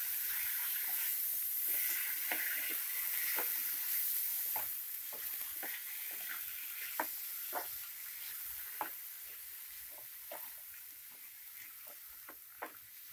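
Coriander leaves stirred in a hot pan for chutney with the gas turned off give a soft, steady sizzle, broken by repeated scraping strokes of a spoon at an even rhythm, close and fairly quiet.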